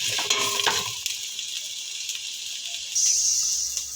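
Garlic and onion sautéing on low heat in a thin casserole, giving a steady soft sizzle with a few stirring scrapes early on and a brighter hiss near the end, and no one speaking.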